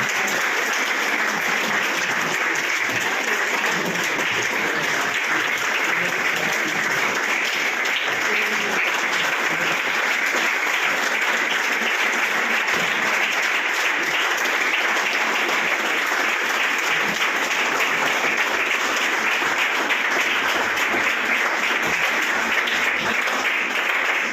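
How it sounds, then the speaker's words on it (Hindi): Sustained, loud applause from a large crowd, steady clapping that continues without pause throughout. "तालियां बजाते रहिए।"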